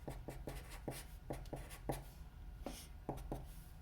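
Pen or marker strokes writing out brackets by hand during a math lesson, a close series of short scratchy strokes in quick irregular bursts with brief pauses, no talking.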